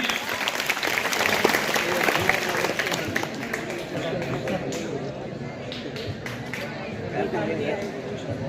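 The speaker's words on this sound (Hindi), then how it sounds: "चलो तालियां बच्चों, तालियां" Children at a school Gandhi Jayanti event clap continuously and loudly, with scattered chatter and voices mixed into the applause throughout.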